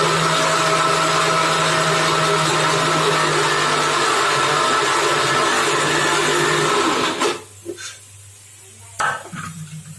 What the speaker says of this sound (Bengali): দেখুন মিক্সির ভেতরে নারকেলটা পুরো হয়ে গেছে।